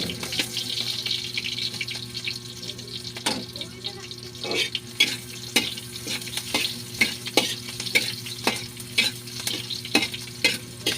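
Onions frying in a pan for pork afritada, a steady soft sizzle with repeated sharp scrapes and clacks of a utensil stirring, close and fairly quiet.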